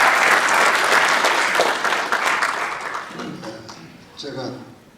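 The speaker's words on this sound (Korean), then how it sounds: "큰 박수로 맞이해주십니다" Audience applause greeting a lecturer at a Korean business association talk, a dense burst of clapping that gradually fades, with a voice starting to speak near the end.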